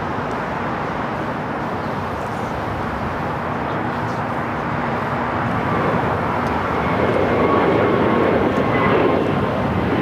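Airbus A321neo jet taking off from LAX bound for JFK, a loud sustained engine roar that swells toward the end as the aircraft powers up, with no talk over it.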